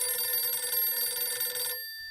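A telephone bell rings loudly and steadily with a bright, sustained metallic trill, then cuts off abruptly near the end, leaving near silence.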